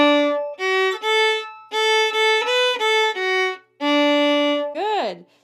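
Fiddle playing the tune of I'se the B'y in an easy tutorial style, a run of bowed notes in short phrases with brief gaps, ending on a quick sliding flourish, close and solo.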